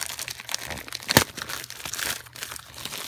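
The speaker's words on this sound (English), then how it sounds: "we're just going to tear into it." A plastic mail package is torn open by hand, giving close crinkling and crumpling with one sharp rip partway through.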